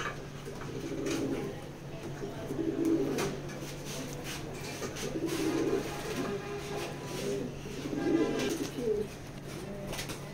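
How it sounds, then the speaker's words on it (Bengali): Long-feather racing pigeons coo in a loft, with soft repeated throaty calls coming in regular bursts over a low steady hum. "এগুলো সব কটা লঙের কবুতর"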